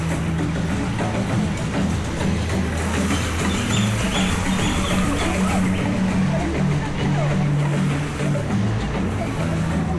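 A stream flows at the Journey of Water attraction inspired by Moana at Walt Disney World, a steady rushing wash of water with low hum, ambient voices mixed underneath.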